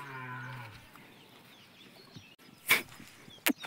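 A cow moos with a loud, drawn-out call at a farmyard, followed by a quiet stretch and two sharp, brief clicks close by.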